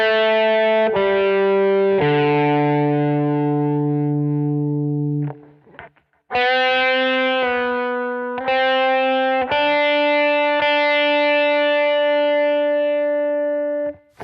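A melodic instrumental phrase of sustained, slightly distorted notes, a few held long, with a brief pause in the middle before it resumes.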